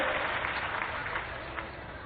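A crowd at a rally in Raisen welcomes Jyotiraditya Scindia with sustained applause, a steady, dense wash of clapping heard from a distance throughout.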